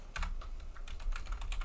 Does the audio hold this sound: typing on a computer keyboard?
yes